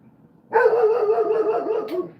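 A dog barking outside, one sustained, loud, strained bark-howl that holds for over a second before tailing off.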